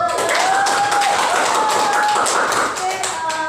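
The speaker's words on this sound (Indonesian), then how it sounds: "tepuk tangan buat Naura." Children in a classroom give a burst of applause, scattered claps running continuously under a speaking voice for a few seconds.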